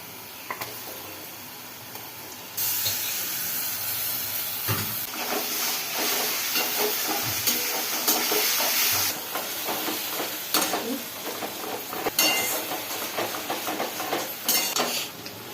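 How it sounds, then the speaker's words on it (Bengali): Spice mix hits hot goat fat for ghugni, and a loud hiss bursts up suddenly, then keeps sizzling steadily with occasional stirring clinks nearby. "এরপরে আমি দিয়ে দেবো মশলাটা"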